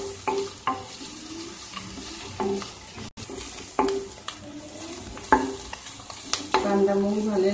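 Onion frying in a pan for palak paneer, with repeated stirring scrapes and steady sizzle through the whole stretch, close and moderately loud.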